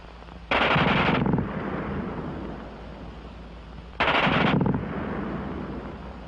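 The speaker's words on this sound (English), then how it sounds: "the German gun fires faster than anything you've run into before" A German machine gun fires two loud, very rapid bursts, each lasting under a second, with echoing decay trailing after each one.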